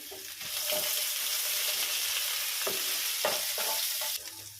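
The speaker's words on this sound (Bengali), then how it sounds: "কাজুগুলো দিয়ে এবার একটু ভাজা ভাজা করে নেব।" Cashews frying in a pan for Bengali basanti pulao, giving a steady close sizzle with occasional scraping stir strokes throughout and no talking.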